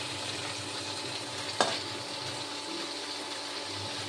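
Paneer pieces frying in a pan to a reddish brown, a steady faint sizzle with a single sharp clink partway through.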